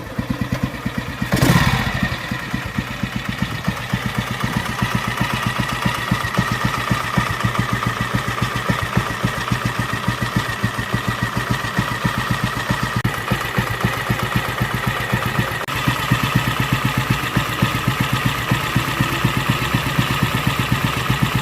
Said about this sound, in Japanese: それではエンジンかけてみようと思います。